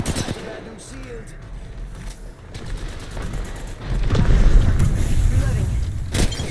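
Rapid bursts of Apex Legends gunfire crackle and boom in clusters, growing louder and denser midway, with occasional sharp shots over a busy background.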